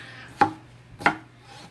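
Two sharp knife chops through fruit, about half a second apart, each a crisp thud on a cutting board in a quiet kitchen while preparing apple rosemary Cornish hen.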